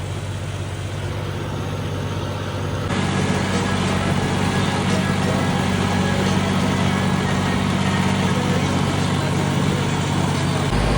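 A tractor with a freshly repaired engine idles in a steady, loud, low rumble close by, the tone shifting slightly after a few seconds and then holding evenly throughout.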